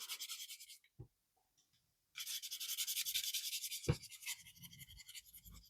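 Plastic model kit sanded before applying foil, rapid back-and-forth gritty rasping strokes in two close bursts separated by a short pause and a couple of soft knocks, with no talk.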